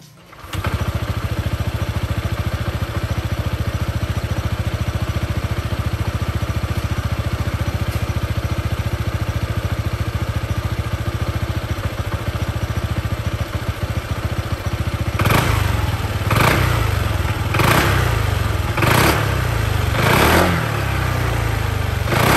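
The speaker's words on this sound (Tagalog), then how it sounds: "parinig ko sa inyo yung engine niya, pati yung stock pipe" A Honda PCX160 scooter engine with its stock exhaust pipe idles with a steady, loud, close drone, then gets several short revving blips near the end.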